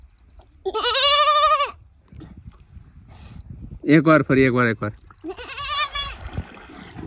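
A boy imitates a goat's bleat with his voice, giving two long wavering bleats with a shorter call between them, loud and close. Someone speaks briefly between the calls.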